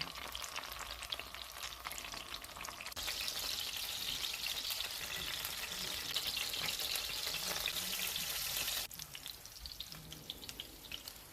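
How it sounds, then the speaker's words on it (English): Zucchini pieces for an Iranian zucchini stew with beef fry in a pan, giving a bright, steady sizzle that swells louder through the middle and then eases back, close and without talk. "Let them fry until they turn golden and slightly crisp on both sides."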